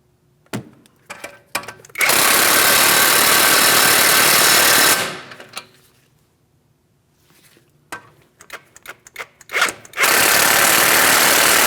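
Power impact tool on a Chevrolet Malibu front strut assembly, snugging up the bolts in two long sustained loud bursts of buzzing whir, with short clanks and handling noises in between.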